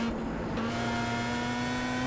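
A Star Mazda race car in iRacing at Phillip Island drones with a steady engine note at sustained revs, holding its pitch close up with a faint rise.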